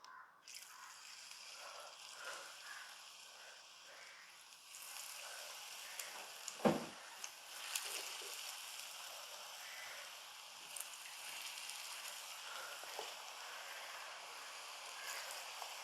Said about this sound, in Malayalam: എണ്ണയൊക്കെ മൂത്ത് വന്നിട്ടുണ്ടേ കുറേശ്ശെ കുറേശ്ശെ പക്കാവടെ അങ്ങോട്ട് ഇട്ട് കൊടുക്കാം